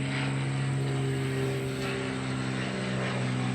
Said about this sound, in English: Whenever I'm outside, there's always planes.